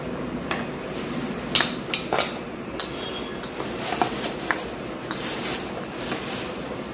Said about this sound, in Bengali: আর একটা হচ্ছে এরকম ঢাকনা